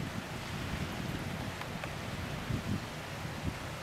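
Steady outdoor wind roars across a Lynx vertical-axis wind turbine charging a 12 volt battery in 15 to 20 mph gusts, a constant broadband rush with occasional buffeting thumps and no voices.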